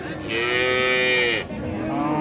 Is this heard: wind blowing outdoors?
no